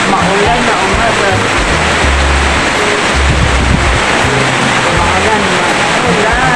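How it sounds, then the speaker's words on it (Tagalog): Heavy rain falling on a rainy morning, a steady dense roar of noise with low rumbles, continuous and loud. "Lakas ng ulan mga kanit."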